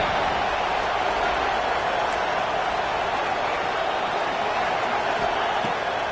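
A football stadium crowd roars steadily after a big third-down play, a dense, loud, continuous wash of cheering with no break.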